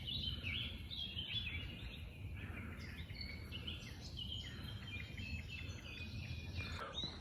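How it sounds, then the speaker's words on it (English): Birds sing in a cool woodland under a canopy of trees on a Peak District trail near Beeley Moor, with faint, scattered chirps and trills over a steady low background hum. "But listen to the bird song."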